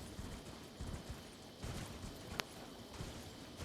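Horse hooves clopping as a mount climbs terrain in the video game Elden Ring, a steady run of soft rapid footfalls over a constant ambient wash, with one sharp click partway through.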